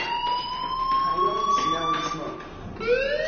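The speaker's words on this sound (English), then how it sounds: "Hey, do you hear that fire alarm?" A fire alarm sounds in the video game Life Is Strange as a loud, continuous electronic tone that slowly rises in pitch and restarts, with voices heard under it.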